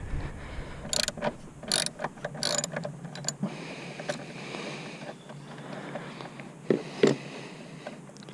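Airbox bolts on a Veloster N are loosened with a ratchet during an intake install, giving several quick bursts of clicking and metallic rattles at close range, fairly quiet between them.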